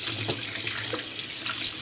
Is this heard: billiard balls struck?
no